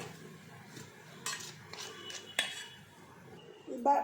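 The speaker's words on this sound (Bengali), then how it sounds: "সব কিছু উপকরণগুলো ভালো করে মিশিয়ে নিচ্ছি" Fish-fry batter of spices and water being stirred in a bowl makes faint clinks and soft scrapes in an uneven rhythm, quiet and close.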